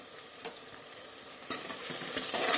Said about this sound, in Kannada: ಕಡಿಮೆ ಆಗಿತ್ತಂದ್ರೆ ಈಗ ಈ ಥರ ಫ್ರೈ ಮಾಡಬೇಕು ನೋಡ್ರಿ.